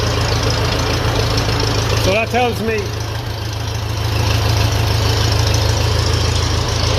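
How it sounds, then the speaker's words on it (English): A 1957 Ferguson FE35 tractor with a TVO engine idles with a steady, loud, low rumble throughout. Someone speaks briefly over it. "turn off the engine"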